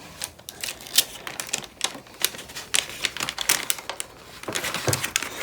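Sheet of paper being creased and folded into an origami peacock, a close series of crisp, irregular crackles and rustles with short pauses between folds.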